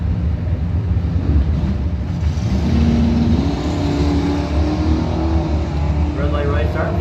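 Drag racing cars, including the Moody Racing Mustang, roar off the line at a drag strip, a loud sustained engine rumble rising in pitch under a track announcer's voice.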